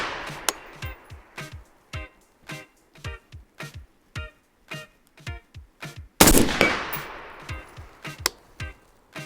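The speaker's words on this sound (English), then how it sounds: "Right here, I'm at 100 yards. This is the SureFire Vampire Scout dual cell, shooting at a 6-inch piece of steel." Rifle shots fired at a 6-inch steel target from 100 yards ring out in a steady series of sharp cracks, each followed by a short echo, with one longer, louder burst partway through.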